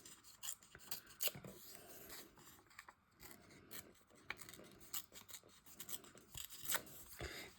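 A small piece of paper bearing a handwritten poem is torn by hand for an art collage, producing quiet irregular ripping and rustling bursts spread through the passage, close and faint, with no talking.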